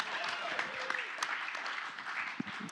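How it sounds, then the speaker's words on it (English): An audience at a film panel applauds with continuous, moderately distant clapping from a room of people, a few voices faintly underneath. "Applause. Yeah, come on!"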